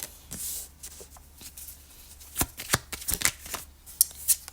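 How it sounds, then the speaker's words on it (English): Tarot cards being shuffled by hand, a run of soft riffling bursts and sharp flicks that grow denser and crisper toward the end, close and fairly quiet, with no voices. "Okay, I'm just shuffling these cards."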